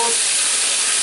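Lamb shanks searing and caramelizing in a hot pan give off a loud, steady, dense sizzle throughout, with no voices.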